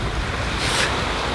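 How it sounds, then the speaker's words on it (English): Strong wind gusting across a kitesurfing beach, a steady broadband roar with surf mixed in and a swelling gust near the middle, blowing continuously with no voices. "I don't know why this wind won't die down."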